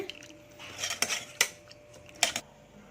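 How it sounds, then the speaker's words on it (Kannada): Cooked toor dal and tomatoes being mashed in a metal pot for vegetable sambar, heard as a few soft scraping clinks and squishy taps, fairly quiet and spaced out with no talking. "ಬೇಳೆ ಟೊಮೆಟೊ ಎಲ್ಲ ಇದನ್ನು ಸ್ವಲ್ಪ ಮ್ಯಾಶ್ ಮಾಡ್ಕೊತೀನಿ"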